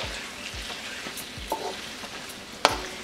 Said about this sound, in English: And then we'll quickly add our yogurt and saute it well with everything.